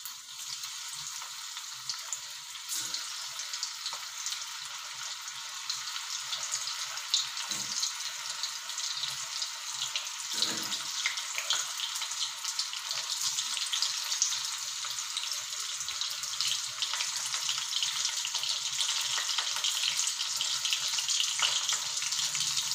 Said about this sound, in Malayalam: ഇനി ഇതൊന്ന് ഡീപ്പ് ഫ്രൈ ആവുന്നത് വരെ നമുക്ക് ഈ ഓയിലിൽ തന്നെ നല്ലതുപോലെ ഒന്ന് ഫ്രൈ ആയിട്ട് വരട്ടെ